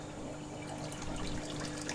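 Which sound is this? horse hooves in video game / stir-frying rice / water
water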